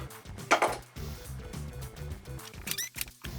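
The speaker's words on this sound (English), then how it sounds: "So let's cut the apple" A knife slicing an apple on a cutting board, a steady run of short crisp cuts with a couple of louder knocks, close and quiet with no talking.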